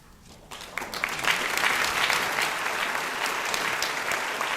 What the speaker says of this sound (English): Sean Connolly applauds.